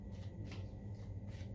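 Tarot cards being shuffled by hand in soft, rustling bursts, close and quiet, with no talk.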